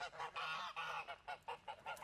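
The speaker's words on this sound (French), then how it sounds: "il y a des oies qui font du bruit" Geese honking repeatedly in a noisy, overlapping chorus in the botanical garden in Tours, fairly close, with short bursts and brief pauses between calls.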